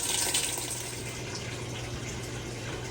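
Water rushes steadily into a washing machine set to a regular wash cycle, a continuous hissing pour heard close and alone without talk.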